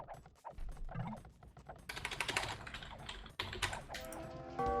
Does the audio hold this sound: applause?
no